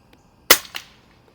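A single sharp crack from a Smith & Wesson model 77A .22 caliber multi-pump air rifle fired at a range, close and loud with a quick fading echo.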